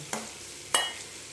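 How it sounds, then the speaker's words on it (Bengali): Chicken is being sautéed in a pan for a dhaba-style do pyaza, with two brief scraping stirs against a faint background sizzle, and no talking. "এটা দিয়েও মাংসটাকে ভালো মতন কষে নিলে কি হবে, টেস্টটা খুব সুন্দর আসবে।"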